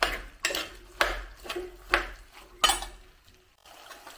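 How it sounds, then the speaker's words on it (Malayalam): Garlic being stirred in a pan over a medium flame for garlic pickle: a spoon repeatedly scraping and clinking against the pan in a steady rhythm of about one stroke every half second, close and quiet. "മീഡിയം ഫ്ലെയിമിലേക്ക് വെച്ച് ഒന്ന് ഇളക്കി വാട്ടിയെടുക്കാം"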